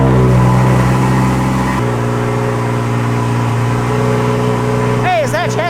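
An engine revs and drones loudly nearby with strong steady tones, its pitch stepping between levels, while a voice speaks over it near the end.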